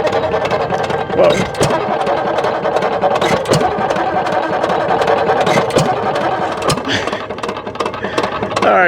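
Antique hit-and-miss gas engines running at the 2024 Pioneer Harvest Fiesta steam and gas engine show in Fort Scott, Kansas, giving a steady mechanical chugging with sharp periodic knocks and a sliding wooden rattle, with crowd noise and voices underneath.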